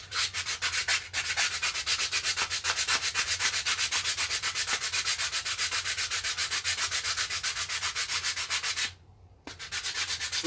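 A plastic Nerf gun shell being sanded by hand, rapid steady back-and-forth rasping strokes close up, continuing evenly with a brief pause near the end before the scrubbing resumes.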